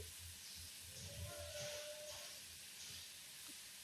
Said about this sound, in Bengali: তেলের সাথে ফ্রাই করে নিচ্ছি তেল এবং চিংড়ি মাছের সাথে